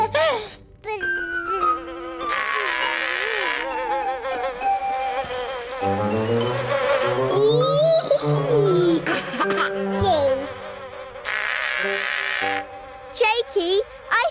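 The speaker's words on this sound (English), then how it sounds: "The buzzy bee wants your help at the honey well." A cartoon bee buzzes in a children's animated nature show, a wavering insect drone that keeps sliding in pitch alongside music and voices, loud and continuous.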